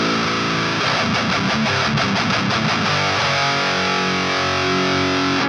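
A high-gain electric guitar runs through an HM2-style distortion plugin with the mids scooped, its dense buzzing chords chugging rhythmically and then ringing out loud and saturated.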